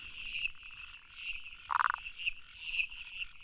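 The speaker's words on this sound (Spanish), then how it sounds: "los machos de rana monito buscan pareja croando entre las ramas en la orilla de una laguna" Male rana monito frogs call from branches at a lagoon's edge, high-pitched chirping croaks pulsing in repeated bursts over a night chorus of insects, with one lower, rattling call breaking in near the middle.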